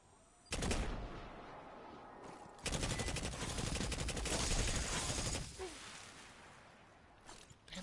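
Enemy gunfire in Destiny, in The Devil's Lair Nightfall, sounding as loud sustained bursts of rapid shooting, one short burst and then a longer barrage lasting several seconds, with no talking.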